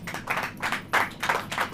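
Audience clapping during a Hindi Christian sermon, heard as a few loose bursts of hand claps at a moderate, uneven rhythm, fairly faint and without speech over them.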